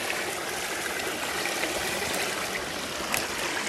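Water trickles steadily through a small drainage cut in a beaver dam, a continuous close babbling stream sound with no pauses and no voices.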